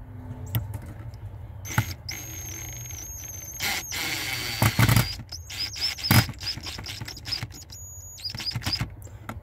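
A DeWalt cordless drill/driver runs in short bursts during a fan control module install on a Jeep Grand Cherokee, its motor giving a high steady whine that rises and falls with clicks and knocks between runs.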